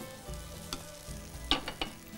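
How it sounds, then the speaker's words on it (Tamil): Onion, capsicum and tomato being sautéed in a pan, giving a soft, low sizzle with a few light stirring scrapes and clinks, heard alone with no talking. "இது பாருங்கள், இந்த மாதிரி கொஞ்சம் வதக்குனா போதுமானது."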